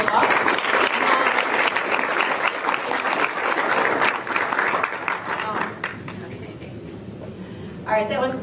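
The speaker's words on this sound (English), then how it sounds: "How about a round of applause for all of us?" An audience at a theme-group presentation session gives a loud burst of sustained clapping that thins and fades toward the end, where a single voice starts speaking close by.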